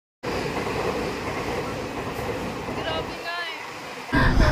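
A Taiwan High Speed Rail train rushes past in a sustained, fairly loud whoosh lasting several seconds, with people talking nearby and a sharper burst of noise at the end.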